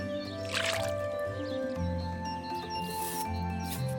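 A cartoon woodpecker washes its foamy head with soft wet squishing and dripping sounds, set over a steady, cheerful musical backing that runs throughout.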